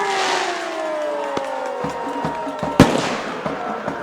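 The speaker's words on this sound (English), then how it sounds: "As the fireworks going off here," Fireworks burst at a high school football game between West Carter and East Carter, with several sharp cracks and booms spaced across a sustained roar of crowd and stadium noise, one loud close bang standing out.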